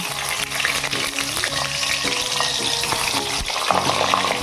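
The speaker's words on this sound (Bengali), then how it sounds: "এরপরে পটলগুলো ভেজে নেব তাই কড়াইতে দিলাম সর্ষের তেল" Pointed gourds coated in salt and turmeric fry in hot mustard oil in a kadai, a steady, loud sizzle running throughout with occasional stirring scrapes.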